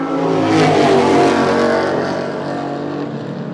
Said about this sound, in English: That noise that the cameras and the mics would have picked up just then is the big Mercedes of Levitt.